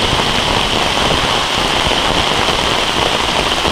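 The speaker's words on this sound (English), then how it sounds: "it is pouring down rain" Heavy rain pours down steadily on an overnight camp with a shelter, a loud, dense, unbroken hiss with no pauses and no voices.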